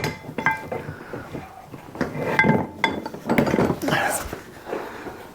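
Metallic clinks and clanks as a Porsche brake rotor is handled and hung on a wheel hanger in a workshop, a series of irregular close knocks and rings of varying loudness.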